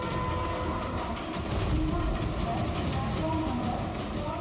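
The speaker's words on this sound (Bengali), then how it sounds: "এই হচ্ছে রেলওয়ে স্টেশন।" A railway station with a train gives a steady rumble and clatter of rolling stock across the whole stretch, at moderate loudness, with voices faintly under it.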